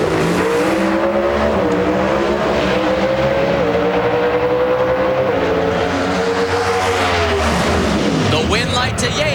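Pro stock drag racing cars roar at the 2003 NHRA U.S. Nationals in Indianapolis, a loud sustained engine note rising and shifting pitch across the run, with a commentator talking over it.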